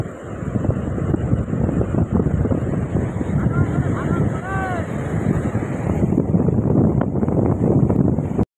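Sea waves on the beach at Bakkhali wash in with a continuous roaring surge mixed with wind buffeting the microphone, while people talk and call out close by.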